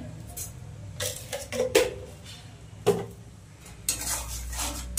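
Spices for stuffed potol fried and stirred in a pan, heard as intermittent metallic clinks and scrapes of a ladle against the pan over a faint background, close by with no talk.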